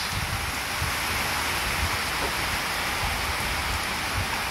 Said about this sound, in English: finished cooking and then it rains.